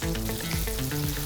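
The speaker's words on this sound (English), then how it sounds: "Now is the time to start flipping and stir frying." Beef strips stir frying in a hot pan, a steady close sizzle with scraping stir strokes and broad crackle throughout, no voices.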